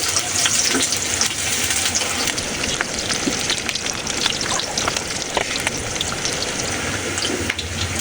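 Green chillies and onions fry in hot oil in a pan, giving a dense, continuous sizzle that stays loud and close throughout with no talking.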